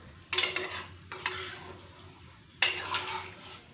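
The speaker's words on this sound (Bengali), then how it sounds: "এরপর আমি 2 কাপ মতো জল দিয়ে দিচ্ছি। জলটা দেওয়ার পরে ভালো মতো একটু নেড়ে নিলাম।" Water poured into a pan of Kolkata-style ghugni with boiled peas, then stirred, giving three separate bursts of splashing and scraping with quieter stretches between them.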